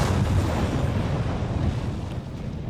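A deep, sustained explosion rumble from the video game Dying Light 2, heavy low-end roar that stays loud and dense throughout before easing slightly toward the end, with no talking over it.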